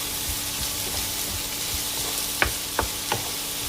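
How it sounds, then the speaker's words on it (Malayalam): Onions for an egg roast fry in a pan with a steady, close sizzle, and a spoon scrapes and taps against the pan a few times toward the end. "സവാളയൊന്ന് ബ്രൗൺ നിറമാകണം."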